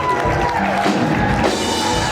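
An audience at a fan convention claps and cheers steadily throughout, a dense wash of applause with scattered whoops and voices mixed in.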